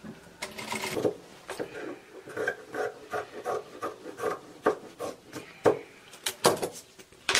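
A sewing machine stitches around the edge of a bag lining, running in close, loud bursts with short pauses between passes, steady mechanical whirring and rubbing throughout.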